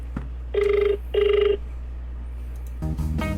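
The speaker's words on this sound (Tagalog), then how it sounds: "Nagre-ring guys. Okay, nagre-ring." A mobile phone rings in two short electronic bursts, each about half a second long, followed by a pause and then some clattering handling noise.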